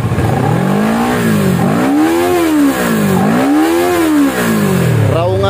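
A Kawasaki ER6n motorcycle fitted with an Akrapovic exhaust revs hard toward 11,000 rpm, loud and close, its pitch swelling and falling back in several repeated blips.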